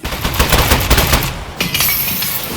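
Turret gunfire from the Aperture Desk Job video game, a dense, loud rattling burst of rapid shots lasting about a second and a half, then a sharp break and a crackling shatter-like tail as the turret gives out.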